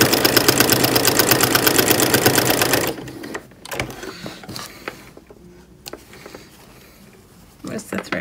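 Sewing machine stitching down a pocket on a boxy kiss clasp purse, a fast steady close whir for about three seconds, then stopping while quieter handling and a voice continue.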